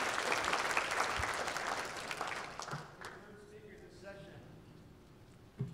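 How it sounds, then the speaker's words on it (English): An academic conference audience applauds a speaker, dense clapping that fades out over a few seconds into quiet room tone, with a voice speaking near the end. "Let's give Bob a round of applause."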